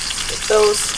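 Bacon frying in peanut oil gives a brief, close sizzle that swells halfway through, then settles into a steady background hiss.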